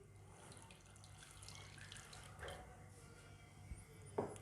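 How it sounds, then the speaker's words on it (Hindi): Water from a glass trickles into sifted wheat flour for mooli paratha dough, a faint pouring with soft drips and a couple of small splashes near the end. "और अब इसमें पानी शामिल करेंगे।"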